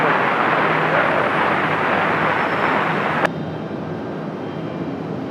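An airliner departing from Raleigh-Durham International Airport, a broad steady engine roar heard from a distance that abruptly drops to a quieter rumble partway through.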